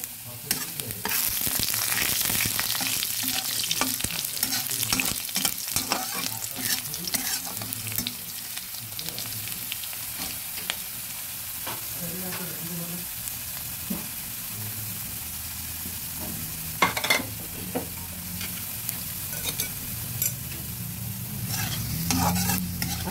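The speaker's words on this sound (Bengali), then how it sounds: "পাঁচফোড়নটা ফুটে আসুক, এদিকে আলুটাও আর একটু ভাজা হোক।" Potatoes and panch phoron spices sizzle steadily in a pan for a long stretch, with occasional sharp clinks and scrapes of stirring over the constant frying hiss.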